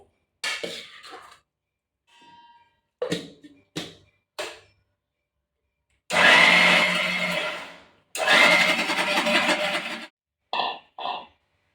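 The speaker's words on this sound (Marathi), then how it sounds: "मी मिक्सरमध्ये बारीक करून घेणार आहे" An electric mixer grinder grinds sabudana (tapioca pearls) in two loud bursts of several seconds each, with short pulses, lid rattles and handling knocks before and after.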